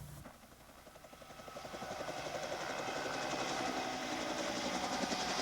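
The Skies 7 news helicopter flies over a Lake Erie rescue of fishermen on an ice floe. Its rotor chop is steady and rhythmic and grows gradually louder as it approaches, with no voices.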